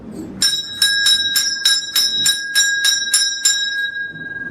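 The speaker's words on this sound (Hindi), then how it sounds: "इतनी तेज घंटी बजाई कि रस्सी टूट गई।" A bright metallic bell rings about ten times in a steady, even rhythm, each strike ringing out clearly before fading after the last one.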